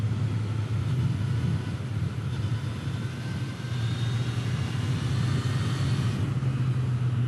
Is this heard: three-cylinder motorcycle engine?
yes